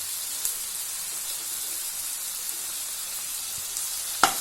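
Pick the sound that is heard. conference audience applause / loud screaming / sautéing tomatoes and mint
sautéing tomatoes and mint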